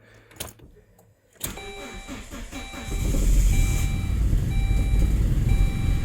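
A Saab 9-3 Aero with an intermittent low-compression fault starts up and runs roughly on three cylinders, a close, steady engine drone that grows louder after a few seconds, with thin electronic beeping tones repeating over it.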